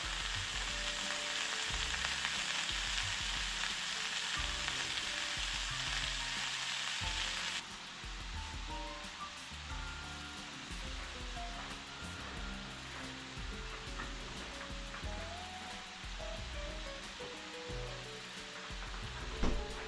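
Meat browning in a pan for garlic bread sloppy joes, with a steady loud sizzle and crackle of frying throughout, occasional stirring scrapes, no talking.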